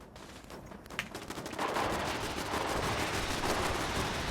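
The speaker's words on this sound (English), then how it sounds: "And then we'll go ahead and get our artillery going." Rapid, sustained barrage of artillery and gunfire in Fallout 76, starting sparse and building after a second into a dense, continuous roar of overlapping blasts that stays loud to the end.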